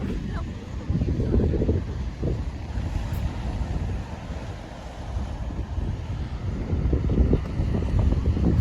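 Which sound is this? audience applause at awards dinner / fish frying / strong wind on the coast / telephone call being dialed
strong wind on the coast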